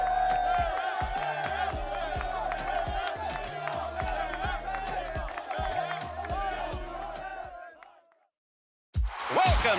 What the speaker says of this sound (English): This crowd is hyped up.